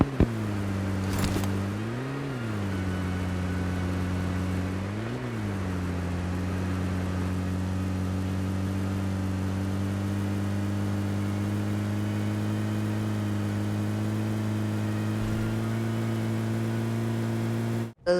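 A car engine in the PUBG video game, on the Erangel map, drones steadily as the vehicle drives, rising briefly in pitch twice early on before settling into a long, even hum.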